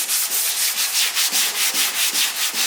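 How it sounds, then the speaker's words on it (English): Rhythmic sanding strokes as 60-grit sandpaper scuffs a surface on an AE86's TRD wing to prepare it for bonding, a steady back-and-forth rasp repeating about every quarter second, close and loud with no voices. "It's just scuffing it up so it gives a good fucking bond"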